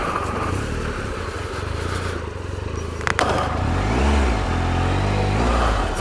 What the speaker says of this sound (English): let me just park the bike up here.